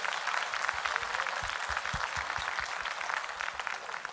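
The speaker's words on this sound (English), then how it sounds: "Can we give them a round of applause?" A church congregation applauding candidates after a forum round, giving a broad wash of clapping that holds steady throughout, with a few low thumps underneath.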